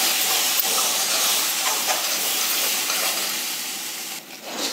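Chili powder and garam masala roasting in a pan give off a loud, steady hiss-like sizzle that fades slightly toward the end, with no talking.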